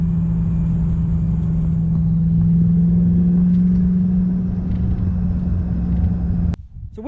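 Toyota Hilux pickup ute with a 1UZ engine and Gilmer belt drive, idling with a loud steady low drone and a whining tone, close by, cutting off near the end.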